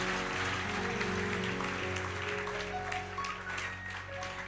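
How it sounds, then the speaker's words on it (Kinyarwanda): Applause in a church service: dense, steady clapping from a congregation blends with sustained musical tones, holding at an even level throughout without any speech. "tugukomera amashyi menshi mu izina rya Yesu"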